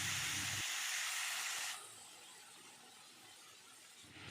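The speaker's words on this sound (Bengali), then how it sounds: "ফোড়নটা হয়ে গেলে এবার ওই তেলে দিয়ে দিচ্ছি আগে থেকে বানিয়ে রাখা মশলাটা।" Spice paste dropped into hot oil after whole cardamom and cumin tempering, bursting into a loud, close hiss and sizzle that settles within a couple of seconds into a softer, steady frying crackle.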